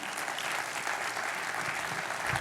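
A church congregation bursts into steady, dense applause filling the whole moment, loud and continuous with a faint murmur of voices beneath.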